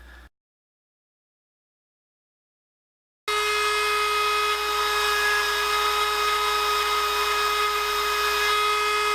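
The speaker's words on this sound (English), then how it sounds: "You gotta be kind of careful when you use a Dremel on this because it heats up the plastic" Dremel rotary tool cutting into a plastic wand, a steady high-pitched whine running continuously and loud after a brief silent gap at the start.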